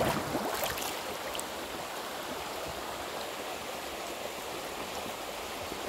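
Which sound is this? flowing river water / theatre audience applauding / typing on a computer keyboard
flowing river water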